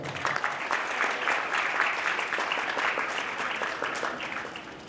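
A church congregation claps together during a Hindi-language sermon, producing a continuous, fairly loud wash of hand claps with rhythmic pulses that taper slightly toward the end, no voices on top.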